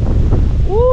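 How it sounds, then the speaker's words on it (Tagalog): Strong wind buffets the microphone outdoors, a loud low roaring rumble filling the short moment, with a brief rising tone near the end. "Lakas ng hangin, grabe."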